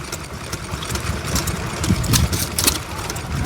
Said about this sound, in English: Here we have a Ruston PT. Listen how quiet that runs.